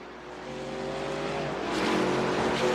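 Racing trucks in an eSports truck racing video game at Watkins Glen drone with continuous engine noise that slowly builds as they push through the turns. The engines are heard alone, steady and moderately loud.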